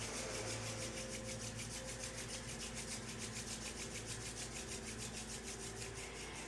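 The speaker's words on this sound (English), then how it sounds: "rubbing the hands together in front of the heart" Palms rub briskly together in a quick, steady back-and-forth rhythm during a Kundalini yoga closing, a close, continuous swishing friction under a low background hum.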